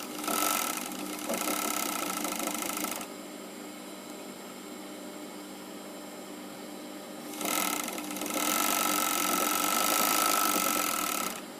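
Industrial overlock serger runs in two bursts of steady, loud mechanical whirring with a sharp high hum, separated by a few seconds of quieter idle background.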